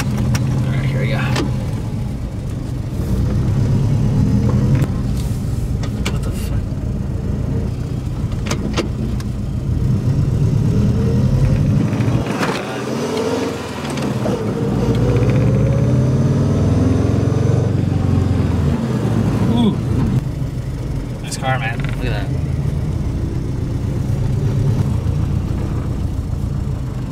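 Subaru GC8 with a swapped-in STi engine driving on a first run, its steady engine drone and road rumble loud and continuous throughout, with a voice speaking over it at times.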